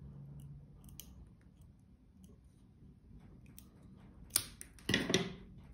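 Scissors cut through a plastic pipe to size in a quiet room, with a few sharp, close snips clustered near the end after a stretch of faint background.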